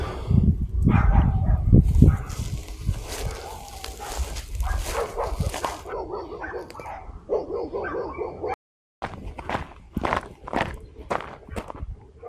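Neighboring dogs bark and yip outdoors on a rural acreage near Redding, California, several bursts at moderate distance mixed with footsteps and light rustling.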